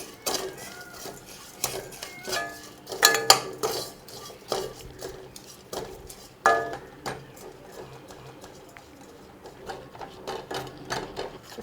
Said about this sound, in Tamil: இந்த சர்க்கரையில் தண்ணி எதுவுமே சேர்த்தாமல் அப்படியே வறுத்துக்கலாம்